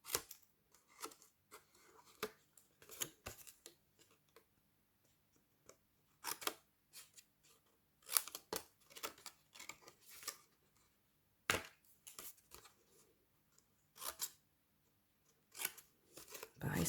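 Scissors or a blade cut diagonally through cardboard box flaps in short, sharp snips and crunches separated by quiet gaps, close and fairly faint.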